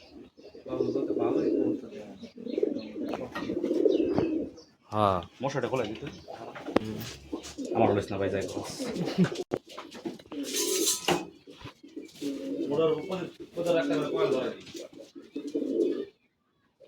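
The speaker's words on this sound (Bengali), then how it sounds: "আর কিছু না পাইছি, কবুতর পাইছি" Pigeons kept at a home coo repeatedly in soft throaty bursts close by, mixed with people chatting nearby and occasional clinks of dishes.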